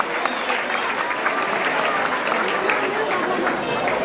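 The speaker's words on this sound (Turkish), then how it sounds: "Çiftini alkışlar mıyız hep beraber?" Guests at a 2009 Turkish wedding applaud the couple, a steady burst of crowd clapping that stays dense and fairly loud throughout.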